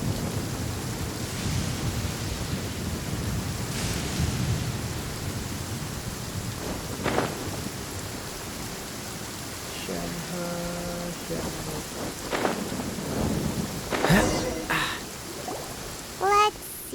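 Steady rain pours with rumbling thunder in the Genshin Impact video game, a continuous wash of rainfall broken by several low rolls and cracks of thunder, with some game effects and voices in the background.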